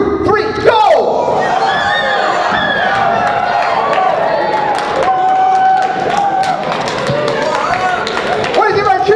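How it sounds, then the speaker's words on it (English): A hypnotized classroom audience at a stage hypnosis show jumps up and lets out a huge, loud cheer for the Warhawks, with sustained whooping and shouting voices that rise in bursts and carry through the whole stretch. "jump up and do another huge cheer"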